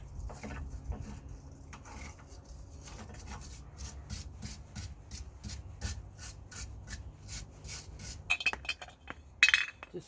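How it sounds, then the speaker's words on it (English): A wire brush scrubs the hub mounting surface of a 2005–2012 Vauxhall Opel Zafira B rear brake in quick repeated rasping strokes, close and rhythmic, with metallic clinks near the end. "before I fit the hub back on, I'm going to clean the surface here with wire brush"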